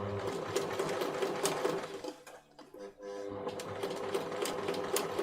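A sewing machine stitches a child's Gryffindor-style jacket in steady rapid bursts, close and fairly loud, with a brief pause midway before the stitching resumes alone.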